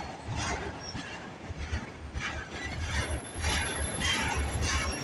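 CN freight train rolling past Brantford VIA station, a steady close rumble with rhythmic clanking and rattling of empty cars over the rails, continuous throughout.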